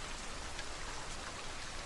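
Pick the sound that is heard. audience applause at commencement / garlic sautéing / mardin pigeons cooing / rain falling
rain falling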